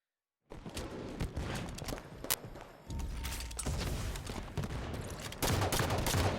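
Gunfire and grenade blasts in a Halo match on the Turbine map, with dense bursts of shots and thudding explosions heard close up after a brief silence, continuing without talk.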